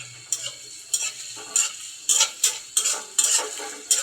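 A spoon stirs ginger and garlic paste in a pan for a Bengali mutton do-pyaza, scraping in sharp, evenly spaced strokes about twice a second with a soft sizzle underneath.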